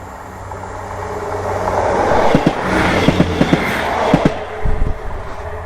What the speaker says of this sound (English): Just a little local train. You can hear it toiling along.